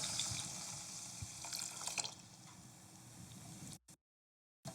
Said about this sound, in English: And then we're going to add 2 cups of water